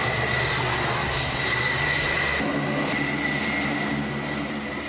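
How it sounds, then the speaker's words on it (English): F-14 jet engines roaring as the plane is waved off an aircraft carrier, a loud continuous drone with a steady high whine and a slight shift in tone partway through. "The plane is waved off"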